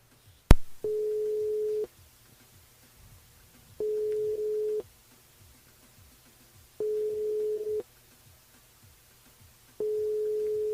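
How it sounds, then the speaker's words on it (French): Telephone line ringing out during a live radio show call to a listener: four steady tone bursts, each about a second long, repeat at even intervals with silence between, clean and close with no talk. "c'est parti avec Grégory sur le standard."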